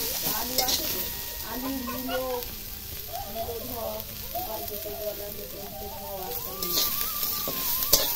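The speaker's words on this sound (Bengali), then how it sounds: "এগুলো আগে ভাজি।" Vegetables for egg chowmein sizzle steadily in a hot pan while being stirred, a continuous close frying hiss with scraping stirs, fairly quiet, with faint background voice.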